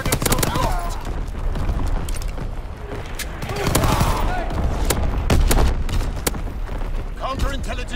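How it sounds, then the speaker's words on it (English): Call of Duty WWII match on the Flak Tower map with sustained battlefield gunfire, including fighter plane strafing runs, dense bursts and booms rolling continuously throughout, loud and mixed with game voice callouts. "Fighter pilot inbound, strafing the target."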